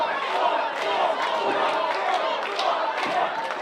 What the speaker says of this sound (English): The crowd's solidly behind Thor.